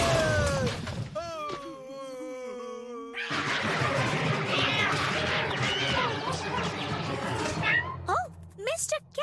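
A cartoon cat's meows and wails ring out in short pitched bursts, mixed with crashing noises and frantic cartoon action, while voices speak over parts of the scene.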